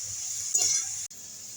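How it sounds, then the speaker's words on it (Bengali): Snake gourd and grated coconut fry in a pan with a steady, fairly quiet sizzling hiss, briefly interrupted by a stir and a faint clink. "এইভাবে আমি একটু ভেজে নেবো চিচিঙ্গা নারকেল ভালো করে।"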